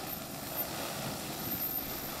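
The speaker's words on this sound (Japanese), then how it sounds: "車両での資材運搬ができない5合目から7合目間をドローンを用いて空輸したものです" A drone airlifting construction materials such as sandbags, anchors and vegetation mats on Mount Ibuki gives off a steady, broad rotor whir, continuous and moderately loud without pause, with no voices.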